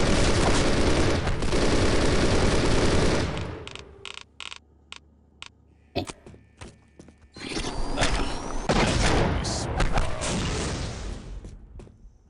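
Gunfire crashes out in a dense, loud roar, breaks into scattered single sharp shots with brief gaps, then swells back into heavy, sustained firing.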